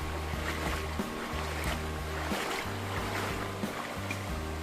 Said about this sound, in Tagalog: Dito sa unang mini waterfalls.